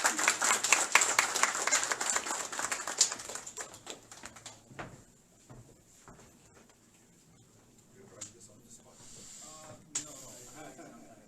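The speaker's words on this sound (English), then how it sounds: "Huge round of applause for Shubham, please." Applause from a seated audience at an embassy meet-and-greet with an ambassador, starting as dense clapping that thins out after a few seconds, leaving scattered claps and some talk in the room.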